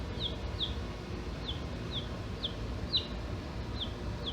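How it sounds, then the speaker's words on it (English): A small chick peeps repeatedly, about eight high, short, downward-sliding chirps spaced roughly half a second apart over a quiet hum indoors. "You can hear the chirping."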